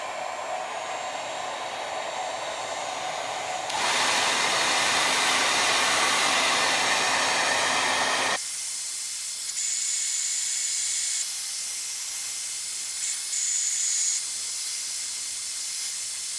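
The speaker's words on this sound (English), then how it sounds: "So the noise was coming from this area," Steady whooshing fan noise from behind a Samsung French door refrigerator. The broadband hiss grows louder mid-way, then drops to a softer whir with occasional faint high tones.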